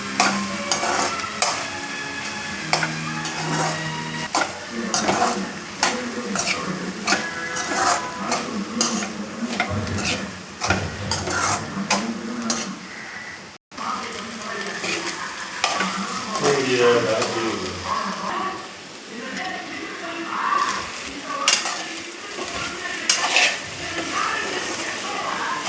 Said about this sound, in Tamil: நல்லா வதங்கி வருது